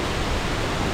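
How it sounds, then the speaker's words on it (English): A small stream flows near Kothapally Waterfalls, a steady broadband rush of running water, close and even, with no voices over it. "there is this small stream going through this area"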